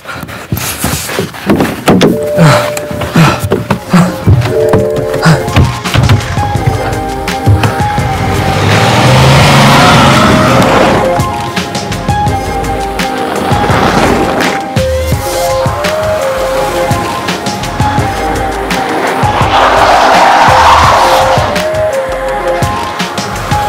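A BMW X5 xDrive40d diesel SUV driven hard on snow, its engine loud and close and rising and falling across several surges of revving, with wind and road roar from inside or near the car for about twenty seconds.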